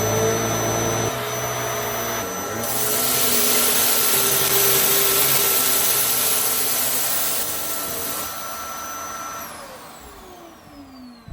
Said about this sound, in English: Now that is the power of this Hoover